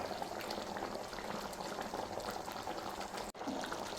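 Malai chicken gravy thickened with masala paste and yogurt simmers in a pan, a dense continuous bubbling and popping heard up close and fairly loud, with no voices over it.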